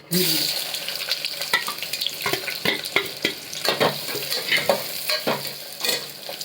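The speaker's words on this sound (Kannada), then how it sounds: "ಫಸ್ಟು ಏಲಕ್ಕಿ ಸ್ವಲ್ಪ ಫ್ರೈ ಆಯ್ತಿದ್ದಂಗೆ ಆನಿಯನ್" Cardamom and onion fry in a pan, the crackling sizzle broken by a run of quick scraping stirs at an uneven pace, close and fairly loud with no voices.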